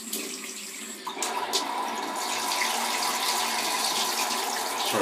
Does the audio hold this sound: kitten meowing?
no